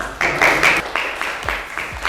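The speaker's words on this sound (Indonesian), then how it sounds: "berikan tepuk tangan yang meriah" Brief burst of classroom applause from students, several bursts of hand clapping close by over about two seconds.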